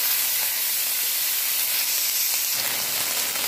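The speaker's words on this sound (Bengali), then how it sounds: "এই তেলের মধ্যে আমি দিয়ে দিব পেঁয়াজ কলিগুলোকে।" Onion stalks dropped into hot oil, a loud bright steady sizzle and hiss that swells slightly midway, close up with no talk.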